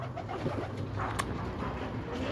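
Racing pigeons at a loft during a derby, soft cooing and faint bird sounds over a steady outdoor hum, with a brief flutter partway through.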